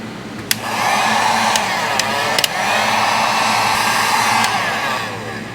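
A heat gun blows a loud, steady whooshing roar while shrinking glue-lined 3-to-1 heat shrink tubing during a 1962 Corvette wiring repair, with a few faint clicks over the continuous airflow.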